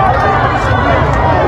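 A large crowd of Iranian protesters in a city street, where objects have been set on fire, producing a dense, loud roar of many voices.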